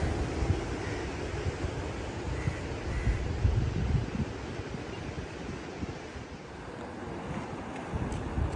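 Sea waves roar onto the beach at Cox's Bazar along the Marine Drive coast, a steady, dense wash of surf mixed with gusty wind buffeting the microphone, continuous and fairly loud with no voices.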